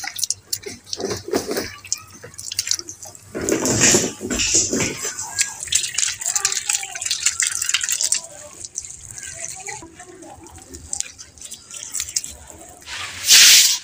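Water leaking slowly from a tap fitted on a household water tank in a village home, heard as soft intermittent drips and trickling with a louder splash of water near the end.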